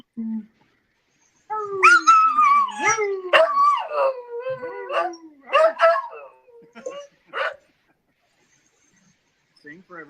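Falcor the dog howls in a long, wavering, sliding song, close and fairly loud, rising and falling through several phrases before trailing off into quiet.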